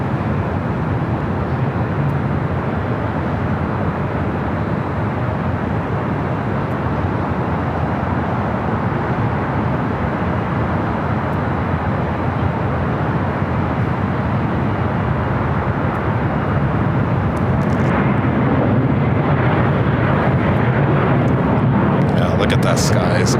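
Jet aircraft taxiing and flying at LAX airport, a loud steady broadband roar with low rumble throughout, swelling slightly toward the end, with a voice talking over it.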